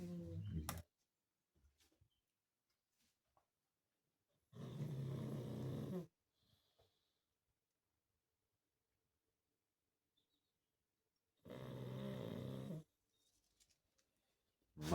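A sleeping dog snores in two long, loud breaths several seconds apart, with near silence between them.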